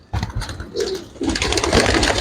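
A Kala pigeon shown up close coos in a few quick, throaty bursts that swell in loudness, with no talking over them.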